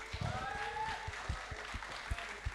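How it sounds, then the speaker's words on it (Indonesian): A studio audience applauds to welcome guests on an Indonesian football talk show, the clapping steady and moderately loud with a few sharp claps standing out, and faint voices mixed in beneath. "Berikan aplaus, berikan aplaus buat Yaris Riyadi,"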